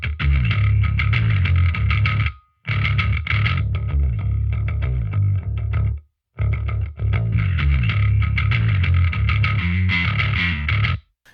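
Bass guitar played through a Line 6 Helix drive model, thick, fuzzy and heavily distorted, sounding loud and continuous in sustained phrases broken by two short silent gaps.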